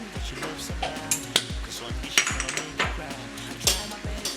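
Efo riro, a Yoruba vegetable soup, stirred in a pot, with a spoon clinking and scraping against the metal in a quick, regular rhythm of close, sharp knocks.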